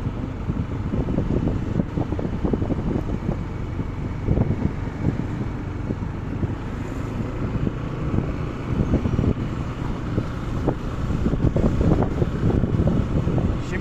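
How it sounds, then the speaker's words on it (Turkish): Gusty wind buffeting the microphone while a rider is out on a Yamaha NMAX 155 scooter, a continuous rough rumble with irregular loud bursts throughout, no talk. "Esiyor ya."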